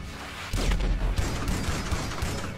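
Shotgun blasts in GTA 5 Online, a sudden loud boom followed by continued rumbling gunfire and impacts, dense and close, after a brief quieter lead-in.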